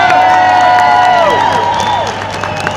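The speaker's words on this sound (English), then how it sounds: "please keep those applause going" A crowd at an anti-Brexit protest in March 2017 applauds and cheers loudly, with sustained clapping, shouts and whistles rising over the steady roar of the mass of people.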